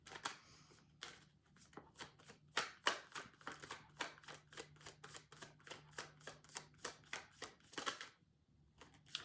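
Tarot cards are shuffled by hand in a long run of quick, crisp riffling flicks, close and fairly quiet, with a brief pause near the end.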